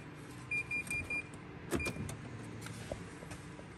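Renault Twingo speedometer unit powered up on the bench: four short electronic beeps in a row, then a brief click and a softer tone, all faint against a steady background hiss.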